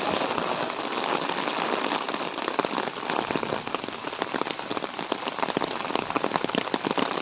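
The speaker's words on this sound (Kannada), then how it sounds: "ಜೋರು ಮಳೆ ಬರ್ತಾ ಉಂಟು." Downpour of heavy rain drumming steadily on surfaces at an estate resort in Moodbidri, Karnataka, thick hiss with crisp individual splashes throughout, no voices.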